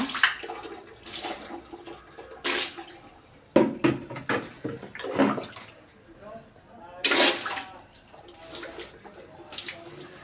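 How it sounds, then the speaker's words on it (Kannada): Water is poured in repeated short splashing bursts into an old, cracked washbasin during cleaning, close and fairly loud, with brief pauses between pours. "ನೋಡಿ ಇವಾಗ ಸ್ವಲ್ಪ ನೀರು ಹಾಕ್ತಾ ಇದ್ದೀನಿ."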